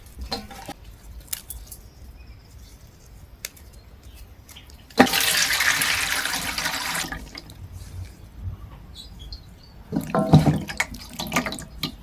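Tap water running over green onions, garlic and ginger being rinsed, a gush of water that starts abruptly, runs for a couple of seconds, then returns briefly after quiet handling noises.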